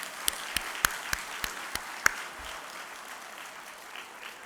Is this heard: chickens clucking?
no